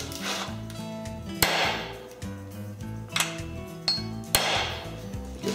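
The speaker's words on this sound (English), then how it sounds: "the shock from those hammer wraps will just loosen that right up" A small hammer strikes a 9/16 Harbor Freight socket fitted over a tapered shaft during small engine repair, giving several sharp metallic clinks at irregular spacing over a low, steady background rumble.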